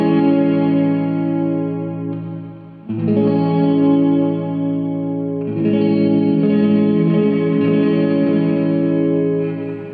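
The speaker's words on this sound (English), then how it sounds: "And then you have the lo-fi, and that's low fidelity, so it's meant to sound kind of like low quality." Guitar played through the lo-fi mode of a TC Electronic Hall of Fame Reverb 2 pedal, sustained, filtered chords with a murky, washed-out reverb tail and a new strum every few seconds, no talk.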